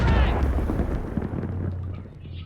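A grenade blast in Black Ops III multiplayer: one deep, rumbling boom at the start that rolls off into a fading low tail over a couple of seconds.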